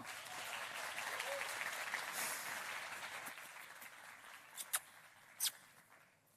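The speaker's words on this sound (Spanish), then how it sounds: "Un fuerte aplauso para Simón Pereira." Audience applause for a speaker at a Spanish-language science talk, a sustained wash of clapping that gradually thins out, ending with a few scattered louder claps near the close.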